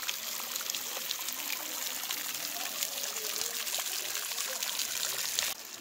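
Cold water pours and trickles steadily in a rocky cave at Hocking Hills, Ohio, a dense, continuous splashing hiss that stays even throughout before cutting off abruptly near the end.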